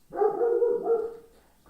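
A single drawn-out dog bark or howl-like woof rings out close and clear, lasting about a second before tailing off, with no talking over it.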